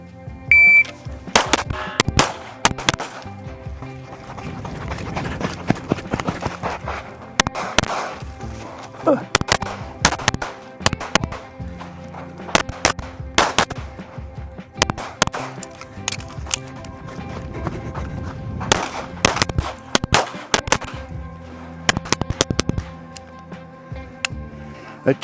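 Sharp gunshots crack repeatedly at a target-shooting course, fired in quick bursts and scattered single reports over a background of outdoor noise with a few short beeps, sounding close and loud throughout.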